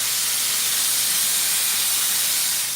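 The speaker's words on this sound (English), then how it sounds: "when you're using steam to clean with" A car detailing steamer set to its high setting releases a steady, loud hiss of steam that runs unbroken and close for the whole stretch.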